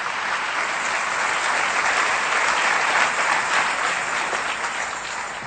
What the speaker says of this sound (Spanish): Le da un aplauso bien fuerte al Rey bendito.